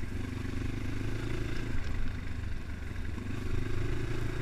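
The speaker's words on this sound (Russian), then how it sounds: "двигатель работает приятненько" A Progasi Gaudi 300 motorcycle engine runs steadily at a close, even idle, with a low throbbing pulse and slight mechanical clatter, alone without talk.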